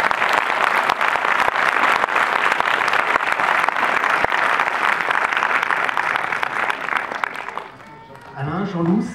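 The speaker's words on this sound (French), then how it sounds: "Voilà, applaudissements." Sustained audience applause at a presentation of the animated film Phantom Boy, a thick, steady wash of clapping from a full room that thins out near the end as voices come in.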